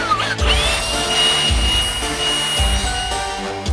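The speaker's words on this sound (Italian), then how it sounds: "Puliamo ora un attimo l'aria con il soffiatore, perché ieri ha piovuto" A blower clears debris from an outdoor work area, still damp after rain, before floor sheeting is laid. It gives a loud, whining roar that surges and dips in several bursts.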